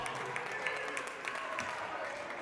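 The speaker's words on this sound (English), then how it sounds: "Kennedy crowd doesn't like the call." Bloomington Kennedy boys' basketball crowd in a high school gym reacting against a blocking call, a steady wash of murmuring, shouting and scattered claps throughout, fairly even in loudness.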